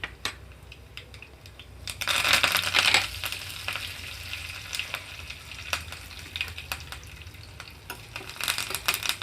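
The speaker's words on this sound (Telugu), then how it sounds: "ఇప్పుడు నేను ఇందులోకి కరివేపాకు కొంచెం కట్ చేసి వేసుకుంటున్నాను" Curry leaves sizzle and crackle in hot tempering oil, with a loud burst of spattering around the second second, then a steady frying hiss marked by sharp pops and stirring clinks.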